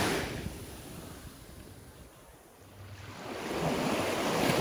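Surf rolls onto the main beach in a broad hiss that swells, dips briefly and builds again toward the end, mixed with some wind rumble and no voices.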